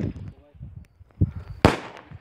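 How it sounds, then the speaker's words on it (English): Small firecrackers set off outdoors, some landing in water, giving a few sharp close pops, the loudest near the end, with people talking between the bursts. "the firecrackers, those little firecrackers"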